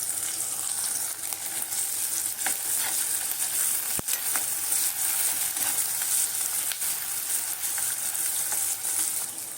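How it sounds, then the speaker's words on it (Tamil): Garlic cloves and curry leaves fry in hot oil in a pan for a curry leaf gravy. A steady, bright sizzle runs throughout, with soft stirring scrapes and one sharp metallic clink midway. "கொஞ்சமாக கருவேப்பிலை எல்லாம் சேர்த்து நல்லா வதக்கிக்கோங்க"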